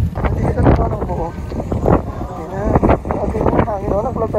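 Wind buffets a microphone outdoors at People's Park in Tagaytay, a steady rushing roar under close, lively talk that continues throughout.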